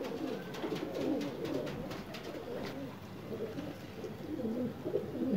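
Pigeons coo softly and repeatedly at close range, their low rolling calls overlapping against faint background noise.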